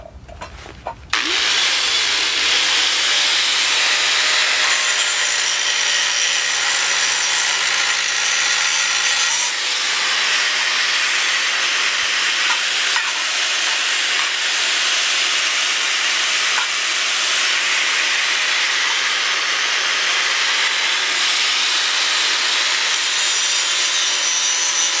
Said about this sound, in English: switch the cutting wheel over to the grinding wheel, and I'm going to clean up some of this metal surface